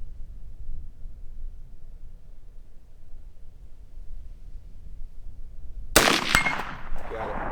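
A single sharp gunshot from a Colt A2 Government carbine clone (Colt 727 build) fired on iron sights at an outdoor range cracks loudly after a long stretch of low rumbling quiet, then trails off in a short ringing echo.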